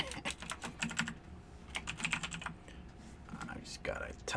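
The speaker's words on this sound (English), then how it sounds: "I just gotta type a few thingies real quick" Computer keyboard typing, quick irregular clusters of close, crisp key clicks with brief pauses, fairly loud and alone without talk.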